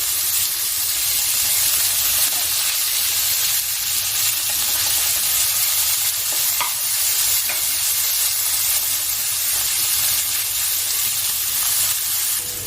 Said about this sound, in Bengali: পেঁয়াজটা একটু নাড়াচাড়া করে এবার আমি দিয়ে দিচ্ছি টমেটো কাঁচা লঙ্কা